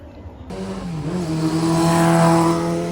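A motorbike passing nearby, its engine note rising and swelling loudly as it approaches after a sudden onset, holding a steady buzzing drone to the end with no voices.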